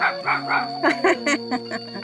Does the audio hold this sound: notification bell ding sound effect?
no